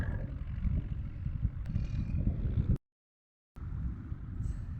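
A jharkil well-digging machine runs at a well worksite with a loud low rumbling roar, cut off by a short gap of silence before the heavy engine-like drone resumes.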